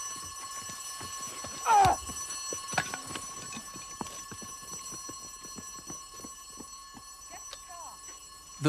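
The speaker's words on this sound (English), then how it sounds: "At this point, an audible alarm went off." An audible alarm at a building rings as a continuous electronic tone beneath a 1988 crime reconstruction, with scattered bumps and knocks and a few sharper sounds around it.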